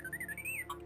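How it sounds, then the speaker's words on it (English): R2-D2 droid beeping sound effect, a brief warbling electronic whistle that slides up and down in pitch before ending on a short chirp, quiet and alone. "This is the sound that R2-D2 makes."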